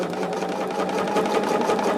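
Sewing machine running continuously at speed, a close, even mechanical whir with a rapid rhythmic needle chatter and no pauses.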